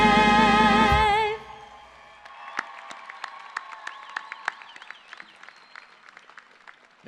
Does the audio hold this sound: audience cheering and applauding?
yes